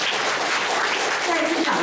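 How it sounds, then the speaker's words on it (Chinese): A crowd at the opening of an honorary consulate claps together in a sustained, even burst of applause that fills the room, with a faint voice rising near the end. "再一次掌声啊！"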